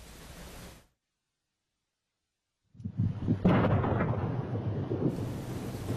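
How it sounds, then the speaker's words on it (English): After a brief silence, a deep rumbling boom from a chemical plant explosion, heard on a doorbell camera, rolls in and sustains, heavy low-end roar lingering rather than a sharp crack. "you can hear the explosion"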